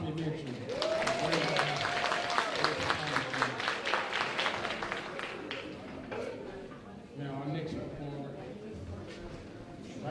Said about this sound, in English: Let's give one more round of applause for Mr. Tommy Mitchell